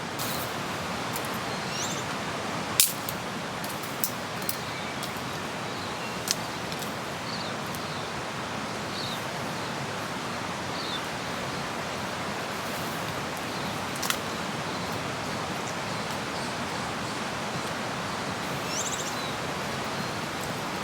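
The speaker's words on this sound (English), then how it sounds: "We've got a bit of wind coming through." Steady wind rushing through trees at a hidden campsite beside a fire of dry wood, a continuous broad whoosh with rustling leaves, a few faint bird calls and occasional small clicks or snaps.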